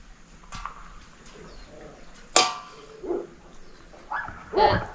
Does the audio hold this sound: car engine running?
no